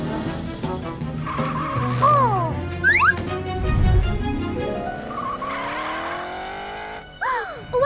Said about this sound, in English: Morph into a super fast race car to catch Orphle.